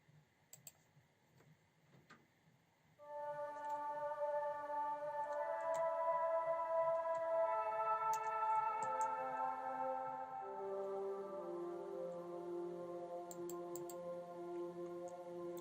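Soft synth tones with chorus, flanger and echo rise into a shimmering sustained chord, notes stacking and trailing off into long echoes and washy reverb with about an 8-second decay, with faint clicks underneath.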